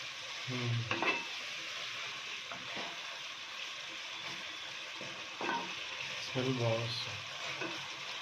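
Chicken coated in ground curry leaf powder frying in a pan, a steady sizzle with occasional stirring scrapes around the first and sixth seconds, with brief faint background voices.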